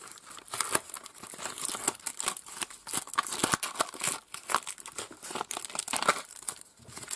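Free plastic-wrapped gifts being ripped off the cover of a Pokemon magazine, making dense, busy crinkling and tearing with sharp crackles, close and continuous throughout without talk.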